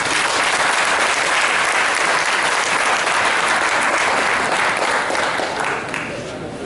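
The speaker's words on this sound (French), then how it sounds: "Nous appelons donc le cheikh Ali Sanga sous vos acclamations, s'il vous plaît." Dense, loud applause fills the room as an audience at a Christian–Muslim debate welcomes a sheikh to speak. The clapping holds steady for several seconds and then fades at the end.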